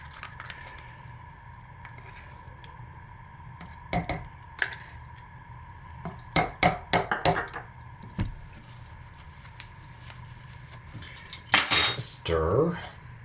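Utensil stirring cold process soap batter in a pot for a purple and white in-the-pot swirl, giving scattered scraping clinks and taps in quick bursts over a quiet room, with a brief voice near the end.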